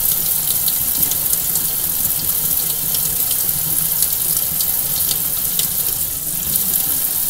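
Hot water runs from a tap in a steady, close splashing stream, an unbroken hissing flow lasting the whole stretch at an even level.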